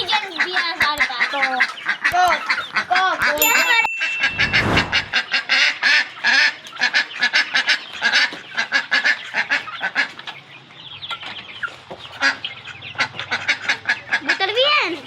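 Ducks, chickens and hens crowd together at an animal pen with rabbits and pigeons. They honk, quack and cluck loudly in rapid overlapping bursts, close by, with a brief dull knock partway through.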